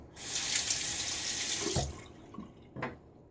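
Tap water running into a sink to rinse a Gillette Aristocrat razor, a steady close hiss for about two seconds, then cut off, followed by a few soft splashes and taps.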